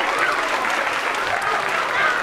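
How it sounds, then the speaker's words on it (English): A room full of children clapping during a live animal show in a children's department, an even, continuous burst of applause with excited voices mixed in. "And give her a round of applause."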